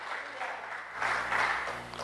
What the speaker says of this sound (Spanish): Dele una fuerte ofrenda de palmas al Señor